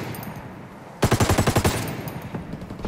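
Machine gun fire in a video game: one sharp burst of about a dozen rapid, evenly spaced shots, loud and close, cutting through a quiet background before trailing off.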